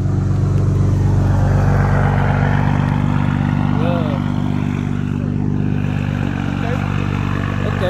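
Foreign car fitted with a big turbo revving at an outdoor car meet, a loud steady engine drone holding throughout, with crowd chatter and voices mixed over it.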